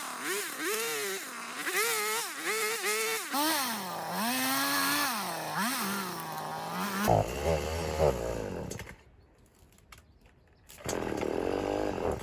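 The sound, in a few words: chainsaw cutting through a thick bush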